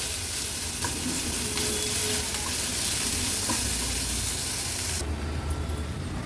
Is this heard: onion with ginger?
yes